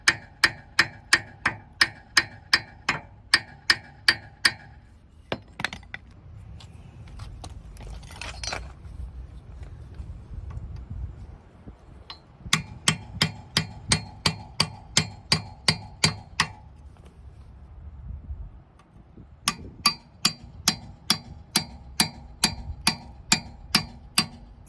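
Hammer blows knock rust loose on a 1940s metal flower cart, falling in quick, evenly spaced bursts of sharp metallic strikes with pauses of duller scraping and rustling between them.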